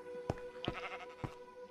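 Sheep in the Minecraft video game bleat several times, three short sharp calls spread over a quiet background with a steady electronic hum beneath.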